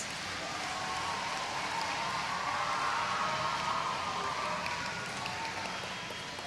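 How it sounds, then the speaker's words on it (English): An audience at a SALSA graduation ceremony gives the graduates a steady round of applause, a dense, even patter of many hands clapping that swells slightly midway and carries on without speech. "Let's have one more good round of applause for all of our graduates."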